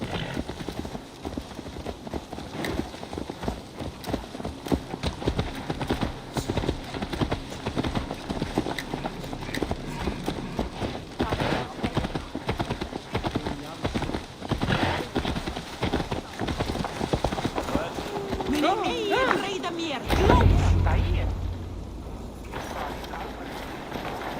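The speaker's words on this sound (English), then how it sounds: "Let's return the horse." A horse's hooves clip-clop in steady rhythm in the Viking-era game Assassin's Creed Valhalla, continuing for a long stretch before the sound shifts near the end.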